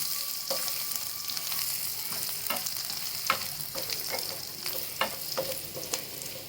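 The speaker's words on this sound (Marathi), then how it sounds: "जिरे जास्त भाजायचे आहे थोडे फुलले की लगेच त्याच्यात लसूण टाकून द्यायचं" Cumin seeds and garlic frying in hot oil in a pan, a steady soft sizzle broken by light stirring scrapes and small pops, close and fairly quiet with no voices.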